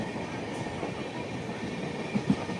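The Padmavati Superfast Express, South Central Railway train 12763 from Tirupati to Secunderabad, rumbles steadily from on board, with a continuous low roar and a couple of brief knocks near the end.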